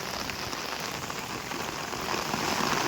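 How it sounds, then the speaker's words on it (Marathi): Steady, heavy monsoon rain pours down on a village during a cyclone, a dense, constant hiss that swells slightly louder toward the end, with no voices. "बघा पहिला पाऊस"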